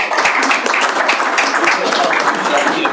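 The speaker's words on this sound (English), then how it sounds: "I'll give you a round of applause." A dense, steady patter of clapping from a crowd at a Billings city council meeting, with voices mixed into the noise throughout.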